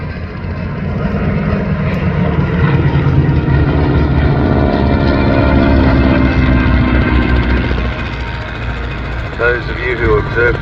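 A 600-horsepower Second World War propeller aircraft drones loudly at an air show, a steady rumbling engine note that swells then eases, with a commentator speaking over it.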